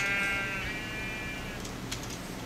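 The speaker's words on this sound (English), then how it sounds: "Say hi to the sheep." In Minecraft, a sheep gives a single drawn-out, wavering bleat near the start, heard over a constant dull hum, followed by a few faint clicks.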